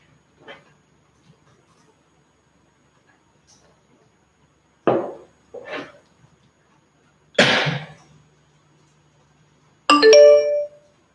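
Sparse notification sounds during a live online Q&A stream: a few short blips and bursts spread across several seconds, ending in a brighter tonal chime.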